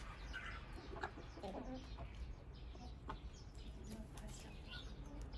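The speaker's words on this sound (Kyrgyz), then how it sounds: "Адлерский тооктор." Adler chickens cluck and chatter in a farm coop, several birds clucking irregularly at moderate distance, fairly faint, with soft background noise.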